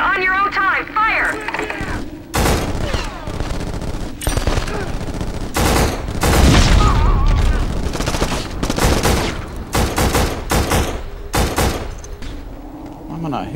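Dense, loud gunfire in the PS2 game Black, with overlapping rapid bursts and fusillades that continue almost without pause, while voices shout through the firing.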